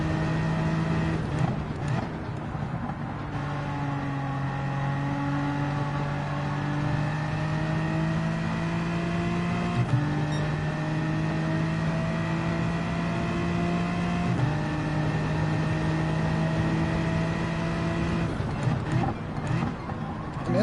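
Race car engine in Gran Turismo 7 at Watkins Glen, a steady, droning note that holds a nearly constant pitch with small shifts and never revs up, running loud and continuous throughout.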